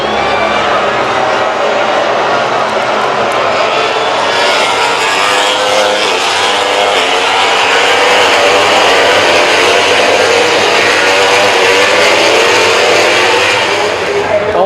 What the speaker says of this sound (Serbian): Ovo su motori od 1000 kubika, ali sa 4 cilindra.